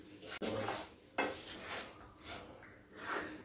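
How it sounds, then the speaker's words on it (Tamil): Ragi flour mixed with vegetables for ragi upma is stirred and roasted in a pan, producing quiet scraping strokes and soft metallic rubbing at an unhurried, uneven rhythm. "இப்போ இதை வந்து இதோட நல்லா கலந்து அப்படியே வறுக்கலாம்"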